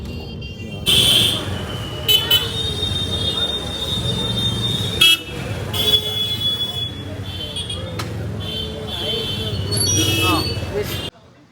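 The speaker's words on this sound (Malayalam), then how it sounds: "നല്ല ട്രാഫിക് ഭയങ്കര ഹോണടി അത് ഡീഫോൾട്ടായിട്ട് ആൾക്കാർ ഹോണും പിടിച്ചുകൊണ്ടാണ് വണ്ടി ഓടിക്കുന്നത്" Busy road traffic in Varanasi with car horns honking again and again, some short toots and some long blasts, while someone talks over the noise.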